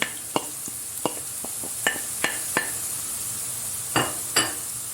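Chopped onion and grated carrot sauté in a pan with a steady, soft sizzling hiss, punctuated by about a dozen sharp, irregular clicks and scrapes of a utensil stirring against the pan, close up and with no talking.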